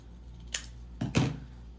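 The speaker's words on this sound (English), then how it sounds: "And just take your scissors and corner to corner." Scissors cut paper corner to corner for a page layout, giving a few quick, close snips and crisp rustles in a quiet room.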